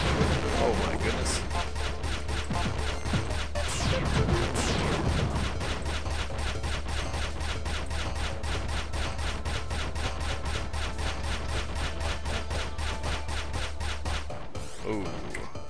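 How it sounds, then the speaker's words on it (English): Continuous rapid missile fire and blasts from the video game Good Robot, a dense, steady barrage of sharp repeated shots lasting throughout, with a voice briefly talking over it near the start. "The resulting missile that's flying through space needs to be dodged."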